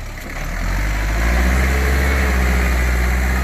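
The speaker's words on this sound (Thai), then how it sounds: "สำหรับเจ้าเอ็มห้าพันเนี่ยดันกองดินแบบนี้ฮะ" A Kubota M5000 tractor engine pushes a pile of soil, a loud close diesel drone that rises and settles into a heavy, steady low rumble under load.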